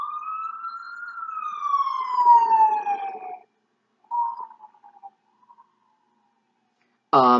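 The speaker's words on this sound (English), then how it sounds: "Excuse me, siren going by." A siren wails past, its tone sweeping down as it moves away, fading out before another short burst of siren cuts in at the end.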